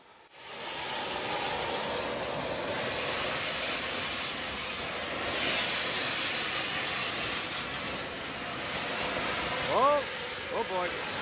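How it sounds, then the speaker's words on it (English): Steam locomotive 1225 lets off a long, loud, broad blast of steam hissing steadily for several seconds, with a brief whistle-like tonal sound near the end. "Oh, oh boy, here comes steam."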